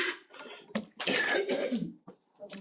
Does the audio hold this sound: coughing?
yes